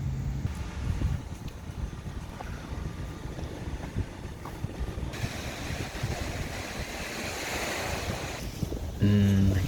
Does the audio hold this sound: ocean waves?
yes